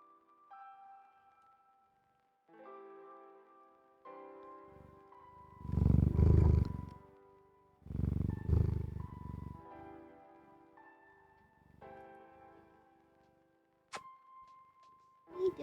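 Sandals, a pet cat, purrs in low, rumbling pulses close to the microphone, surging louder twice in the middle, with background music playing throughout.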